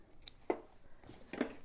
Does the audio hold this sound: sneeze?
no